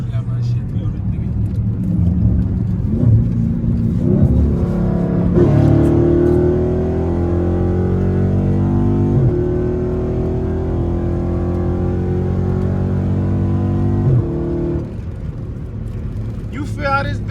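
A car switched into sport mode accelerates on badly worn, wobbly tires, its engine droning loud and close with rising revs and gear changes, someone talking over it.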